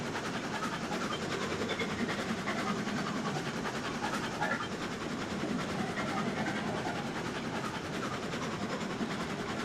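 Riding aboard a moving train, a continuous rumble of wheels on rails with faint rhythmic clacking runs steadily throughout, moderately quiet and without speech.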